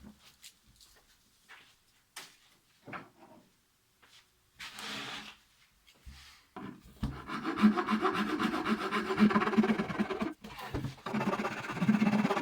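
A curved steel scraper works across a wooden guitar body, giving repeated rough rasping strokes that start sparse and faint, then grow into a steady, louder run of close scraping.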